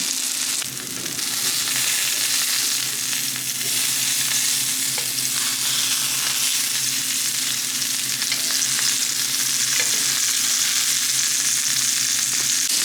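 Tuna steak fried in a pan gives a steady, loud sizzle that runs unbroken for about thirteen seconds, with no voices over it.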